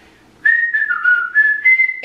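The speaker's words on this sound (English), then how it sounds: "can you whistle?" A person whistles a short, clear melody of a few wavering notes, close up and alone after a brief silence.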